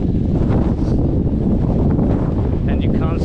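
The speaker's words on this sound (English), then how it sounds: "It's windy" Loud, continuous wind rumble batters the microphone along an exposed alpine trail on the Tongariro Alpine Crossing, steady and close throughout, with a brief faint higher sound near the end.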